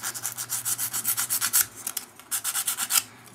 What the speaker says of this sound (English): on this side I'm going to carefully take off all the coating that was protecting the circuit board